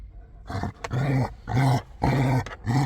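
A dog growls and snarls in close, aggressive bursts while attacking, four or five loud rasping growls separated by brief gaps, with a few sharp yips in between.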